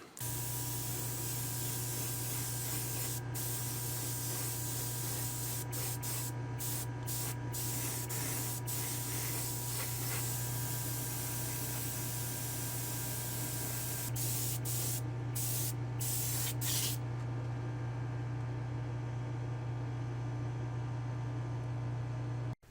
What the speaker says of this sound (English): let me head to the spray booth and we'll get this thing started